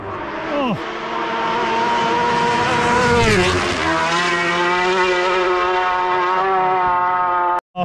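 Racing motorcycles at the Isle of Man TT roar past loud and close, engine pitch rising then dropping sharply as one bike sweeps by, with a sustained high-revving wail continuing after; faint voices may be present.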